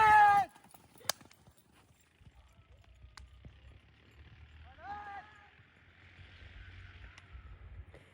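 A horse gallops during a speed check, its hoofbeats a faint, rapid low thudding in the distance, with a sharp sound at the start and whistling tones above.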